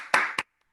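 One person claps hands during an online webinar, a couple of sharp, close claps that stop abruptly into silence.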